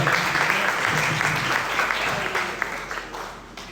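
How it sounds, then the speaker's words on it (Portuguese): A church congregation claps together in a dense, continuous round of applause that fades slightly toward the end, with a voice faintly audible beneath it. "Vamos receber com carinho, aplaudindo ao Senhor."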